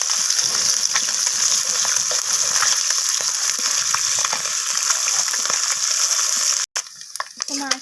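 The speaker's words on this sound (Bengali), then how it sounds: "তো মাছগুলো এইভাবে খুন্তি দিয়ে একটু নাড়াচাড়া করে ধৈর্য ধরে মাছগুলোকে একটু ভেজে নিতে হবে লালচে লালচে করে।" Morola fish frying in hot oil in a pan for a spicy green-tomato curry, a steady close sizzle with scattered spatula scrapes as the pieces are turned, dropping out briefly near the end before resuming.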